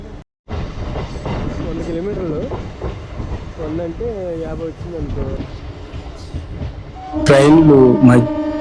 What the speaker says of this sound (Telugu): ప్యాసింజర్ ట్రైన్ ప్రతి చిన్న స్టేషన్లోనే ఆగుతుంది